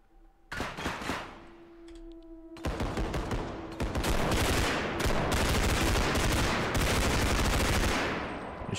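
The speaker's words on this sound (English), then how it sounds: "Shooting randomly" Rapid automatic gunfire in the realistic first-person shooter game Bodycam: a few scattered shots open, then dense, loud, sustained bursts of fire roll on almost without pause.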